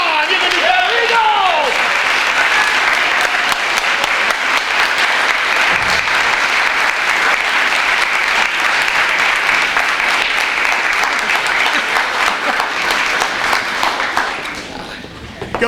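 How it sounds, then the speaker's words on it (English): Rousing, sustained applause from a crowded banquet hall at a school hall of fame banquet, loud and continuous with cheers and whoops mixed in, tapering only at the very end. "if we could have a rousing applause for our recipients tonight"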